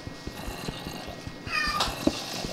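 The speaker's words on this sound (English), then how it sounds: "Is that the cat villain again?" A cat meows in Minecraft, one drawn-out cry rising and falling near the middle, over soft background clicks and game ambience, with no talking.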